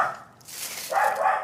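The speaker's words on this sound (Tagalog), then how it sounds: "Ito ba yung aso, no?" A dog barks near a group of people sharing a meal in a cemetery, a few short barks and yips, moderately close, with faint background noise.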